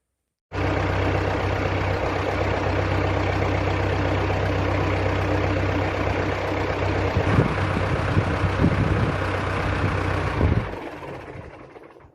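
Tractor engine set up beside a hay barn runs at a steady, loud, low idle for about ten seconds, with some clanking mid-way, then fades and cuts off near the end.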